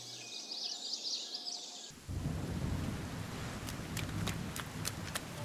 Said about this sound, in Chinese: 糟糕，下雨